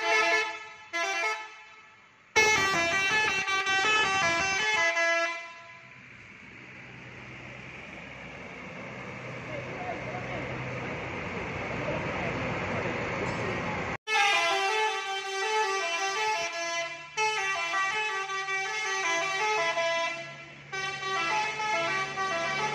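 A Mawar Jaya tour bus, an RK260 fitted with a telolet basuri horn, sounds loud multi-tone melodic horn blasts in bursts, with a stretch of engine and road rumble between the opening and closing tunes.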